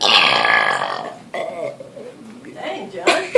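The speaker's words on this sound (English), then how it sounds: "We're having a burping contest, okay?" A loud, drawn-out burp during a boys' burping contest over slushies, followed by further shorter burps and grunting vocal sounds, with voices around it.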